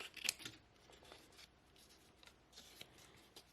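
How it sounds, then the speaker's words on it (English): Scissors snip through thin French newspaper while making small handmade journal books, giving a sharp close cut near the start followed by faint rustling and light handling of paper in a quiet room. "I wrap it around here so that I can cut"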